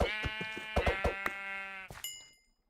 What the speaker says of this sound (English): Oh, you jerk sheep